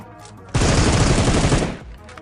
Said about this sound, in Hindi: अब ये बंदा बेचारा गाड़ी पे फायरिंग कर रहा था